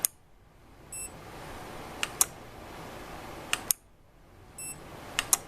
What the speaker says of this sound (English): Those buzzers on these KVMs are so loud.